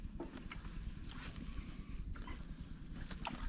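Thin, warmed-up engine oil drains from a Honda EU20i inverter generator, pouring like water in a continuous trickle under steady outdoor wind and background noise.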